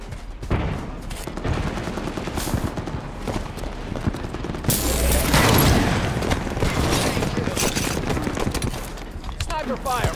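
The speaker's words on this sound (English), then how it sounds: "Sniper fire, move it!" Gunfire crackles through a Halo 5 multiplayer match, with dense bursts of sniper and automatic shots, a louder swell midway, and game effects layered throughout with voices speaking.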